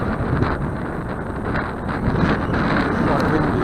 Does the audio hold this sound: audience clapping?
no